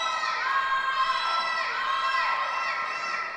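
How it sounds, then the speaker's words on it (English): Spectators at a curling championship scream and cheer in a sustained, shrill roar that swells and dips, filling the arena without pause. "We can hear them scream."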